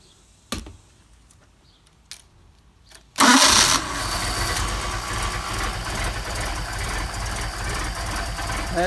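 A Mercedes 190SL engine on Solex carburetors cranks a few times, then bursts loudly to life and settles into a steady, even idle that runs on without talk.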